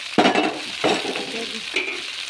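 Green chillies hit hot oil in a pan for a desi cluster-bean sabzi, giving two loud bursts of frying and stirring followed by a steady sizzle close by.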